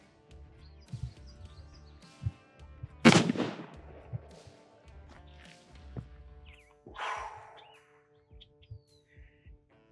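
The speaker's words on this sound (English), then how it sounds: "It has such a concussive blast, like that cleared my nose." A CCW Glass Cannon pocket pistol firing a 7.62x39 round, with a single sharp, loud gunshot and a ringing tail, followed later by a second fainter crack, amid quiet outdoor background noise.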